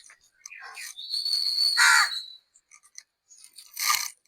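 A crow perched on an air conditioner unit caws a few times, fairly close, amid a thin whistle and scattered background noise in a garden.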